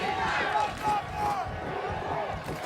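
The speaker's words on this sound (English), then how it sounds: "Crowd starting to chant defense now" A high school varsity football crowd in the stands chants in a rhythmic, repeated group cheer, loud and continuous with overlapping voices throughout.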